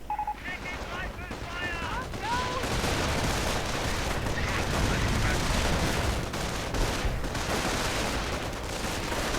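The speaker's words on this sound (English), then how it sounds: "I suspect we might be seeing the artillery now" Dense video game battle din with continuous rapid gunfire and booming blasts in a World War II setting with Hummel artillery, airborne squads and grenadiers, loud and sustained, with a few brief tonal beeps at the start.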